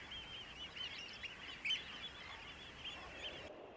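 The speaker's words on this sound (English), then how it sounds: "Eider ducks breed here in their hundreds." Soft honking and cooing calls of eider ducks, a busy chorus from a breeding colony running steadily through the clip with one brief louder call partway.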